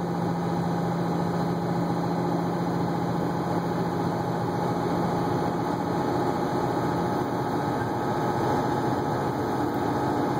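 A truck engine cruising steadily at 1700 RPM and 50 mph on a dark, curvy road at night, heard from the cab as a continuous, even drone with a low hum and a high whine, holding level throughout with no talk.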